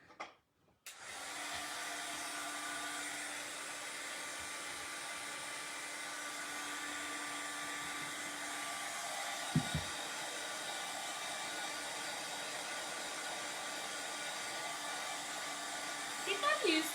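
A hair dryer switches on and blows in a steady, close whoosh for a long stretch, drying a transfer on an Easter egg. One brief knock sounds partway through.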